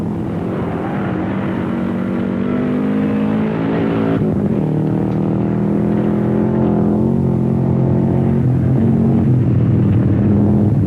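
A 1985 Subaru rally car drives hard on a rally stage, its engine loud and close with a steady high rev that drops to a new gear partway through and climbs again, with no talk.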